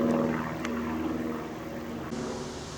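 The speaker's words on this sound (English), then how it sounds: "There's another light plane going into Cranfield." A light propeller plane passes overhead on its approach to Cranfield airfield, its engine a steady, distant drone with a low humming tone that holds evenly throughout, heard alone without any voices.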